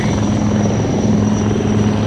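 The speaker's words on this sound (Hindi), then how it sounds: "देखिए हेलीकॉप्टर है पीछे, इतनी नज़दीक से पहली बार हेलीकॉप्टर देखा है मैंने" A helicopter close by at an NCC event gives a loud, steady rotor roar with a constant low throb filling the scene.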